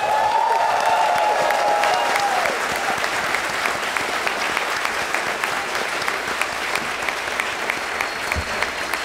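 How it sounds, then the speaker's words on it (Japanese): A large audience at a Street Fighter X Tekken panel at Comic-Con 2010 applauds steadily and loudly throughout, a dense wash of clapping with faint cheers mixed in. "let's greet these guys with the applause they deserve"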